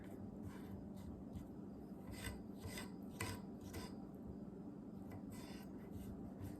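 Tojiro DP 100mm petty knife slicing strawberries on a cutting board, a run of soft, close cuts and faint scrapes repeating unevenly over a quiet, steady background hum.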